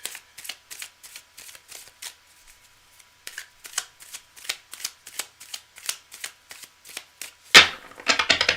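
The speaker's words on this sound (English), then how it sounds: "I'm just going to shuffle up, clearing the decks." A deck of reading cards is shuffled by hand during a live reading session, giving repeated crisp riffling bursts in a steady rhythm, close and fairly loud, with a sharper louder riffle near the end.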